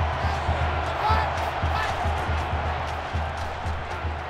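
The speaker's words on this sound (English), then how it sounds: "This crowd is almost shaking the stadium." Roaring stadium crowd in a college football video game during a UVa dynasty, a dense sustained wash of cheering with a steady low rumble underneath, holding at a constant loud level throughout.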